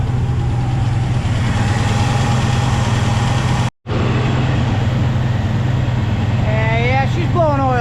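An old engine idles roughly with a steady low rumble, close and loud, briefly cut off by a gap midway, with speech-like sounds late in the clip.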